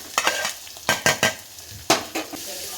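Onions and coriander frying in hot oil on a gas stove, with bursts of sizzling as a spoon stirs the pan, several close scraping strokes over a steady crackle.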